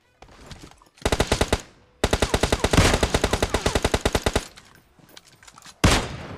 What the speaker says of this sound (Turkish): O da sıkıyor.